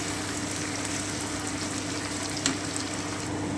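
Chicken maharani sautéing in a pan over lowered heat, giving a steady, dense sizzle that holds evenly throughout with one brief louder crackle near the middle.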